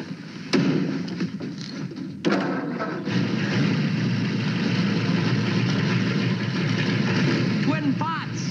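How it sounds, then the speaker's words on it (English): A 1950s flathead engine with special heads, 8.5-to-1 compression and twin carburetors, heard with a couple of sharp thumps as it starts, then a loud, steady, rumbling run that continues to the end. "Start up the motor and let him listen to it."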